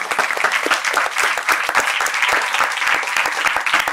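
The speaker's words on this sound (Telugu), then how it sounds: "ముందు వాళ్ళకు మీరు చప్పట్లు కొట్టాలి." An audience at a music event bursts into loud, steady applause, with dense overlapping clapping from many hands continuing without a break.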